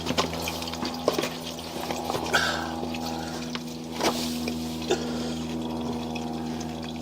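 Water runs steadily with a low pump-like hum underneath, punctuated by occasional small knocks and clicks; no voices.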